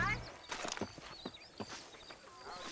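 Horse hooves clip-clop at a steady walking pace in Red Dead Redemption, a series of distinct hoof strikes at moderate volume with faint game ambience and no talk over them.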